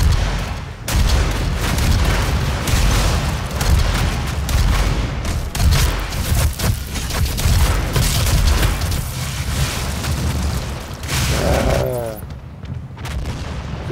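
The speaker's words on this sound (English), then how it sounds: "you're running along behind them, hitting them with rockets, and it takes like 3 rockets to kill them" Rocket blasts and gunfire in the DOOM open beta boom loudly and almost without a break, an intense barrage of explosions layered over the in-game combat.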